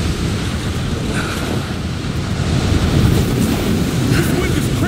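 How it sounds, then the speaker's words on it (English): Steady, loud wind roars without a break near a summit in a video game, a broad rushing bluster that swells slightly toward the end. "This wind is crazy."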